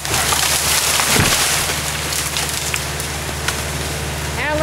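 The broken top of an Eastern Hemlock tree is pulled down by a Hud-Son Uniforest 35M forestry winch, giving a sharp splintering crack of wood near the start over a steady tractor engine drone, followed by lighter snaps and rustling.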